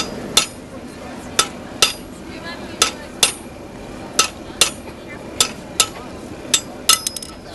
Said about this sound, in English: We're doing a blacksmithing demonstration, trying to demonstrate some team striking, where you got 2 or 3 people hitting it with a sledgehammer